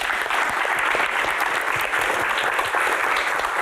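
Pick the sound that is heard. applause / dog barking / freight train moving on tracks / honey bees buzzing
applause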